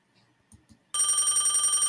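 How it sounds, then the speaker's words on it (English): A telephone bursts into a loud, continuous electronic ring after a moment of near silence broken by a couple of soft knocks, the trilling tone holding steady to the end. "I think the phone is ringing once again"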